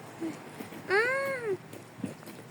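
A cat meows once on a rainy street in Yalova, a clear rising and falling call that is fairly close, set against quiet background noise.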